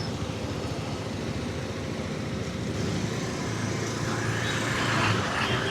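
Road traffic in Hosur city forms a dense, continuous rumble of engines and passing vehicles, heard from amid the flow on an old KTM Duke 390 motorcycle, steady and fairly loud with no one speaking.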